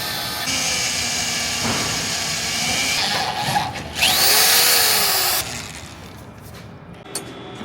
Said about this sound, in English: I'm gonna drill 7/16 holes just to give us some clearance